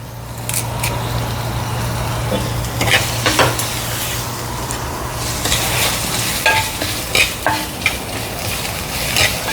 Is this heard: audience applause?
no